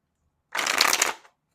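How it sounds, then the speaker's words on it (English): A deck of tarot cards riffled once in a single crisp burst of rapid papery flutter lasting under a second, close and clear against silence. "I'm going to shuffle."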